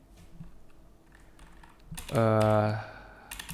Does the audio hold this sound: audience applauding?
no